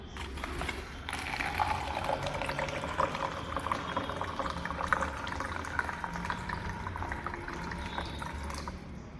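Water runs steadily from an automatic sensor tap into a glass, a continuous rushing pour that holds at an even level for the whole stretch, with no voices over it.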